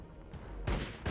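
Gunfire from the Warhammer 40k Battlesector video game, short loud bursts of shots, two separate volleys with a brief lull between them, heard over low battle rumble.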